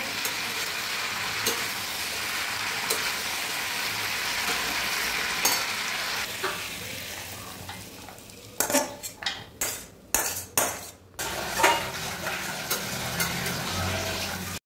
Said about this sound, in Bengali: এদিকে আমার সব সবজির সঙ্গে মশলাটা কষানো হয়ে গেছে, এগুলো আমি কড়াই থেকে নামিয়ে নেব।